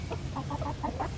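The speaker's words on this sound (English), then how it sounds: "that chicken right there between the two" A hen that had been going broody, recently removed from her hiding spot, gives a run of soft, repeated clucks at close range with no talking.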